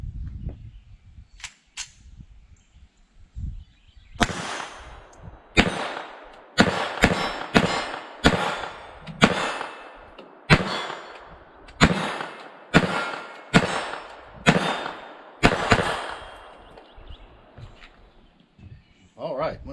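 A Taurus TX22 Gen 2 .22lr pistol fires a full magazine from about 15 yards: roughly a dozen sharp, loud cracks in a fairly steady rhythm, with brief voices and handling noise before the first shot.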